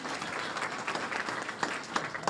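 An audience at a township forum applauds a speaker, steady dense clapping at moderate distance with a few sharper individual claps standing out near the end.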